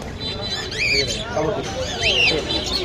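A lutino cockatiel gives two shrill, rising squawks over a murmur of background voices and noise at a bird market.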